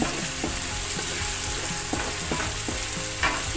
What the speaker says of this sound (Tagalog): nagluluto tayo ng pechay. Ginisang pechay with hipon.